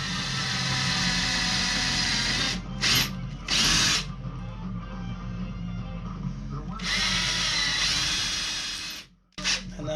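A drill with a countersink bit bores into a cabinet for a Furrion fireplace install, giving a close, loud, steady whirring grind with short pauses and bursts partway through and a brief stop near the end.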